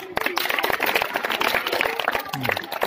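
A group of students claps at a school science quiz contest, a busy patter of hand claps mixed with voices and room noise throughout.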